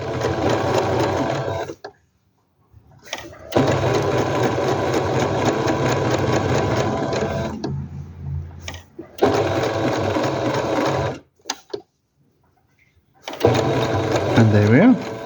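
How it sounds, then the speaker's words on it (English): Sewing machine stitching down an appliqué rose quilt block, running in long steady bursts separated by brief pauses, loud and close, with a voice speaking during the stitching. "And there's our first block sewn down."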